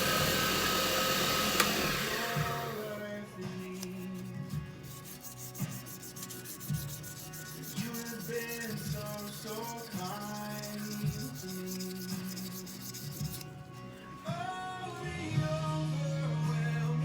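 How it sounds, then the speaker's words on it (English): 800 grit sandpaper is held against a turned pen spinning on a lathe, producing a continuous soft rubbing hiss over a steady motor hum, with tonal sounds running underneath. "Up to 800 grit on the sandpaper now."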